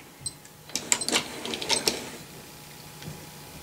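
A hand-cranked Rhodes shaper's Whitworth mechanism turns with a cluster of clicking, rattling mechanical ticks in the middle, then quiets to a faint hum. The sound is fairly quiet and close, with no voice over it.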